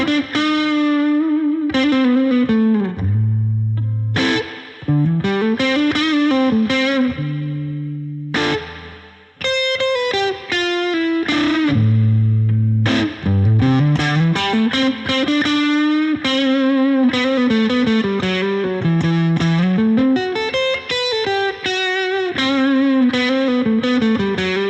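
Electric guitar played through the vintage channel of a BluGuitar Amp1 amplifier with reverb added, a continuous melodic line with bends and sustained notes, lightly driven and alone without voices.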